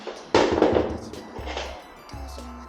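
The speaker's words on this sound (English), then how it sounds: "Now we're going to actually put the strips around the edge using the nail gun." A nail gun fires nails through edge beading around laminate flooring, with a sharp, close pneumatic crack followed by a few softer shots and thuds, loud against a quiet room.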